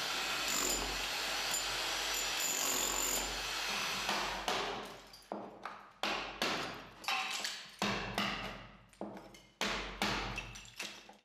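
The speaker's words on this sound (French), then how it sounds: "il n'y a plus qu'à les dégager au marteau et au burin" A hammer drives a chisel into a wall to clear channels for electrical wiring, sharp metallic blows repeating in an irregular rhythm, each strike ringing briefly, after a stretch of dense scraping and rumbling.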